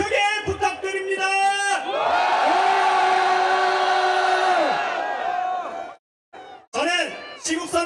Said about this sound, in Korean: 환호 한번 크게 부탁드립니다.